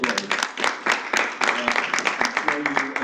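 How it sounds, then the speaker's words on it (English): An audience at a summit workshop claps in uneven bursts for about three seconds, the sharp individual claps close and distinct, with a voice talking over the applause. "can we give him another round of applause?"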